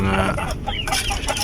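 White Leghorn chickens cluck and squawk nearby in a busy, overlapping chorus, with short calls scattered throughout.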